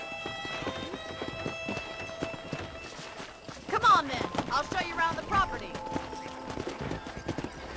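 Horse hooves clip-clop steadily in Red Dead Redemption on PC, a rhythmic walking gait that quickens into a busier run midway, with a whinny and a voice talking over the hoofbeats.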